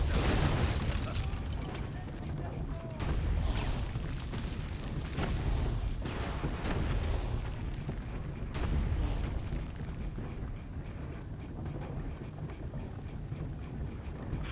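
Leonardo's medieval tank in Assassin's Creed Brotherhood, with cannons on all sides, fires repeated booming blasts amid a continuous heavy rumble and roar, loud and close throughout.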